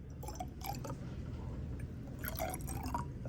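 Water poured into test tubes in a chemistry demonstration, a soft trickle with faint glassy drips and splashes, quiet and close, with no talking.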